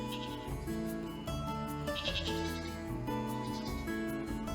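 A herd of goats bleating, several overlapping calls rising and falling in near-continuous layers, fairly close and steady in level, with no talk.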